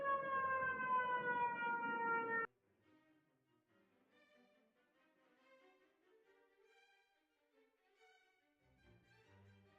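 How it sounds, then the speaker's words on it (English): A loud wailing siren blares for a couple of seconds, then cuts off, leaving faint, distant tonal sounds and quiet background. "There's very loud sirens outside."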